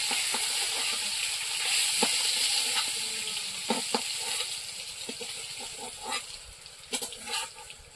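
Rohu fish pieces frying in hot oil before being lifted out, in a rustic village kitchen: a continuous close sizzle with scattered crackles and spatters that grow busier toward the end. There is no talking.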